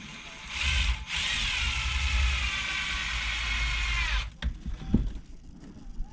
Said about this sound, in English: If you're going to use the gun and cheat, don't get crazy.